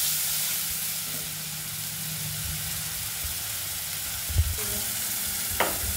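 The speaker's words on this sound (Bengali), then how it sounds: "মা দিয়ে দিচ্ছে পেঁয়াজ আদা রসুন পেস্ট" Onion, ginger and garlic paste hits hot oil with whole cumin seeds in a home kitchen, giving a loud, steady sizzle throughout, with a couple of sharp clinks of a utensil near the end.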